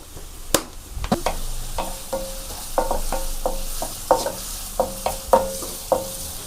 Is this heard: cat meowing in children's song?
no